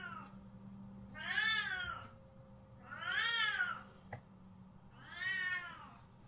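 A female cat meows three times, long and drawn-out and evenly spaced, close and clear against a quiet indoor background hum.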